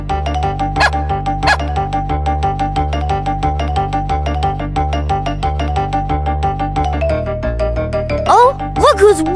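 A small dog yips and barks repeatedly in quick succession over a steady musical backing, with a jingling tinkle and some animated voice sounds rising near the end.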